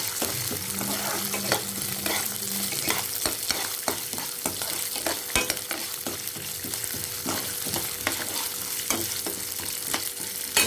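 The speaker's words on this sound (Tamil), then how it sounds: "உளுந்தை நல்லா போட்டு வறுக்கணும்." Urad dal dry-roasting in a pan for pirandai chutney, stirred with sharp, rhythmic scrapes and rattles over a soft, steady sizzle, close and fairly quiet with no speech.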